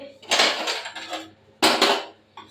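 A spoon scrapes and clanks in a metal pressure cooker while meat-style fenugreek and young jackfruit curry is stirred after garam masala and a little ghee go in. There are two loud bursts of stirring, close up, with a short pause between them.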